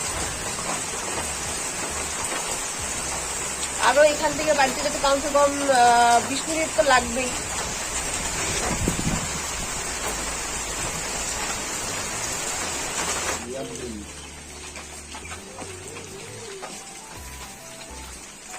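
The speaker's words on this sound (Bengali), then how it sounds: "বৃষ্টিটা থামছেই না, আবার হালকা এখন রোদ উঠেছে, কিন্তু বৃষ্টি থামেনি আর হাওয়াও থামেনি।" Steady rain pours down with wind in a constant broad hiss, close and loud, while a person talks over it for a few seconds. The downpour eases slightly toward the end.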